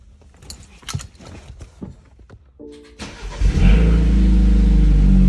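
A BMW N20 engine, just fitted with a VRSF charge pipe, cranks over and catches after a few seconds of quiet clicks and handling, then settles into a loud, steady idle up close.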